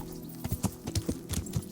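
Horse hooves clip-clop in the Kingdom Come: Deliverance video game, a quick run of crisp, uneven hoofbeats close by with no other sound between them.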